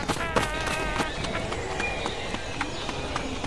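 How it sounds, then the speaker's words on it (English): Quick running footsteps in a Roblox game patter steadily and close, with rapid repeated thuds. A voice carries on over them. "Do you hear other footsteps?"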